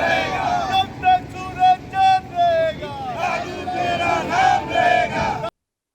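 A large crowd gathered in a village for a martyred soldier's funeral, many voices loudly shouting slogans together in surges and sustained calls, close and strong, before cutting off abruptly.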